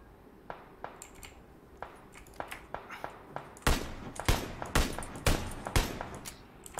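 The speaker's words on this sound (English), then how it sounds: "They're firing directly from east." Gunfire in a battle royale video game, a string of single shots fired at intervals that grow louder and sharper partway through, with faint background noise and no talk over it.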